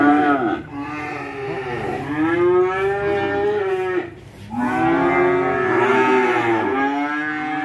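Cattle at a farm moo in long, drawn-out calls, several overlapping and close, with a brief pause between bellows.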